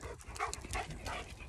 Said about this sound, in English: out with the dogs. They're